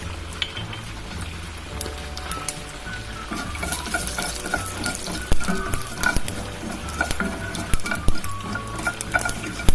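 Cumin powder and mustard seeds sizzling in hot oil for an Indian tomato curry, a dense crackling fry with sharp pops that grow louder and busier, close and without talk.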